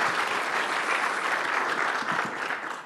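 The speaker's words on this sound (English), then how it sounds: "Let's give her another round of applause" An audience at a PyCon AU conference talk applauds steadily for about three seconds, a dense, even wash of clapping filling the hall with no voices over it.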